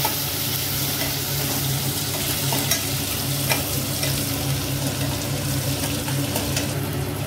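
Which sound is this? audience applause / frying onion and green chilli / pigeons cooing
frying onion and green chilli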